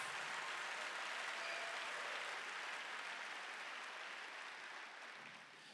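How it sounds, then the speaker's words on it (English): A church congregation claps together in sustained, dense applause that holds steady for several seconds before easing slightly at the end. "Clap your hands and shout about it just a minute."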